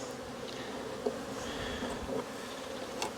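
Honey bees hum at a cell builder hive holding new brood frames, a soft continuous buzz with a few brief louder passes of individual bees nearby.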